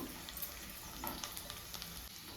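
Garlic frying in a pan of hot oil for a tempering for raw mango dal, a soft, steady crackling sizzle heard fairly faintly with no talking.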